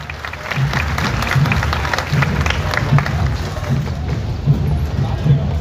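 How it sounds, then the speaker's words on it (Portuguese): Crowd applause rises along a street parade for a school in Custódia, Pernambuco, a steady broad wash of clapping and cheering under a regular low drumbeat, with crowd chatter and voices throughout. "aplausos!"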